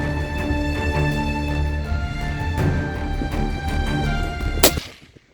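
A single sharp gunshot fired at deer on a hunt cracks out near the end, over a steady low mechanical hum that fades away just afterward.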